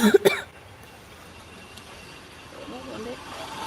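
A couple of short, sharp coughs close by at the very start, followed by quiet background hum and faint distant voices.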